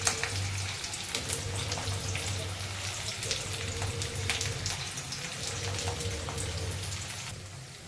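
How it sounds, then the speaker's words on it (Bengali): Onion, garlic, green and red chillies and tomato fry in hot oil in a pan, a steady close sizzle with crackling spatters and a constant hiss throughout. "পেঁয়াজ, রসুন, কাঁচা লঙ্কা, পাকা লঙ্কা, টমেটো এগুলো দিয়ে হালকা করে ভেজে নেব"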